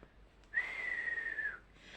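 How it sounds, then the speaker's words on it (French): A single sustained whistled note, close and clear, held for about a second against a quiet indoor background. "j'arrive même plus à siffler, quoi."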